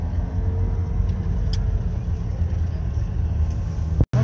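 A car drives home at night on a bumpy road, its engine and road rumble forming a steady low hum from inside the cabin, with a brief clunk near the end.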